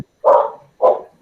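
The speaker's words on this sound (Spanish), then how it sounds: "es que está ladrando mi perro" A dog gives two sharp, close barks, evenly spaced and loud against an otherwise quiet room.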